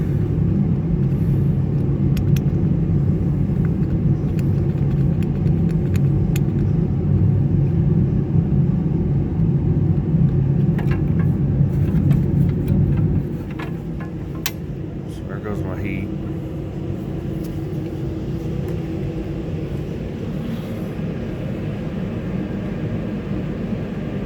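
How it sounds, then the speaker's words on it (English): The blower of a Cambridge heating unit runs with a loud, low, continuous rumble that drops to a quieter steady hum partway through. A short clank sounds near the change in level. "Sure does look like that blower continues to run."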